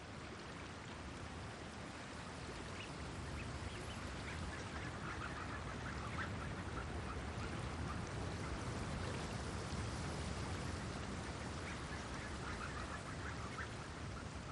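Goldeneye ducks on the Sea of Okhotsk in northern Japan, heard as scattered calls over a steady wash of water and wind noise that fills the scene without pause.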